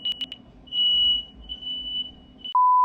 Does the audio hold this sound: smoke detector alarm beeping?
yes